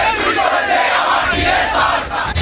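A crowd of protesters on hunger strike loudly chants slogans together at a demonstration over DA money. The dense, continuous massed voices stay close and loud throughout with no pauses.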